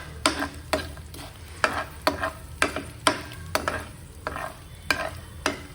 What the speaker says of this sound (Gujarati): તે રીતે આપણે તેને તળી લઈશું.